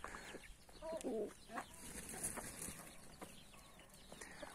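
Chickens, including a young hen under a year old and a rooster, cluck softly in a backyard coop, with faint scattered calls and light rustling and no talking.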